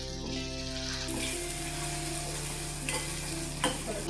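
Tomatoes sautéing in oil for dal tadka, an even close sizzle under repeated scraping stirs with a low steady hum behind, no voices.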